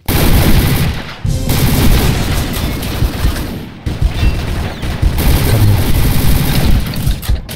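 Loud, near bursts of rapid gunfire from a shooter video game rattle almost continuously, broken by two short pauses.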